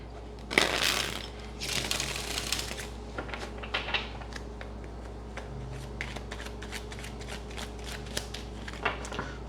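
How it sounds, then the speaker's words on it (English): Tarot cards being riffled and shuffled close by, a couple of loud bursts early on, then lighter taps and flicks of cards for the rest. "One more shuffle."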